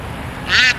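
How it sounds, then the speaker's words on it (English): A duck gives a single brief, nasal quack close by, with no one talking. "I'm about to get attacked by a duck. Look. He's saying quack."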